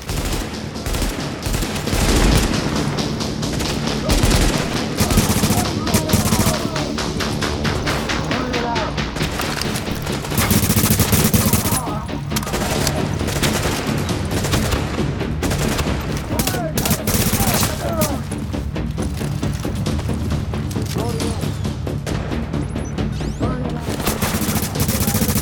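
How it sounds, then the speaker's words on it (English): Shotgun blasts and heavy gunfire in The Division's Napalm Production Site mission, a relentless, loud exchange of shots with thumping impacts throughout, players talking over the chaos. "He's got like a really long range shotgun."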